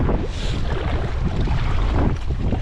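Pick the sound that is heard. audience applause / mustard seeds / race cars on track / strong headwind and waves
strong headwind and waves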